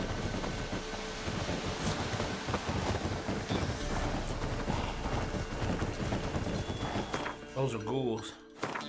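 Roach, Geralt's horse in The Witcher 3, gallops with dense, steady hoofbeats under wind and rain, the clatter fading out near the end as a voice talks over it.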